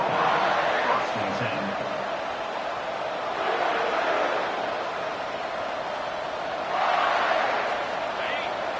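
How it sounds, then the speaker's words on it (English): A crowd roars through a college football game involving Illinois, a loud, dense stadium din that swells in waves, with a play-by-play announcer talking over it. "This crowd bringing the energy and noise early."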